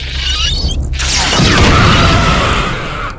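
A rechargeable weapon firing in the PC game Realms of the Haunting, starting with a loud charged whoosh and then bursting into a long, heavy crackling boom that rumbles and fades out over a few seconds.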